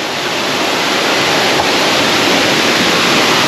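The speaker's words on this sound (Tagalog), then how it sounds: "agos ng tubig." Outdoor waterfall in Bulacan pouring into a stream, a loud, dense, constant rushing of water heard up close with no break and no voices.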